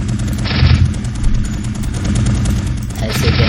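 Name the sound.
gunfire from player's weapon in Unreal Engine video game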